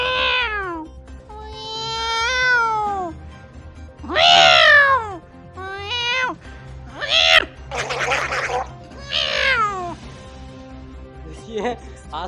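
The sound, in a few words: man imitating two cats fighting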